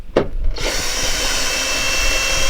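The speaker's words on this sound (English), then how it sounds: "We're going to literally undo, with the bigger Torx bit, about 5 Torx bit bolts." A power driver with a large Torx bit undoes bolts on a Ford Ranger PX door: a short click at the start, then a steady close whirring and grinding that runs to the end.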